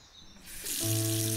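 Carrots washed under a running kitchen tap to remove mud; a quiet rustle gives way to a steady, close gush of flowing water striking the vegetables and sink, growing louder and continuing to the end.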